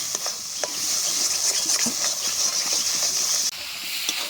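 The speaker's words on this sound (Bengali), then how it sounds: "এবার এই মশলাটাকেও খানিকক্ষণ ভালো করে কষাবো" Spice masala with chilli powder cooks in a pan for a chicken liver and gizzard dish, giving a steady bright hiss and sizzle with scattered scraping stirs throughout, close and moderately loud.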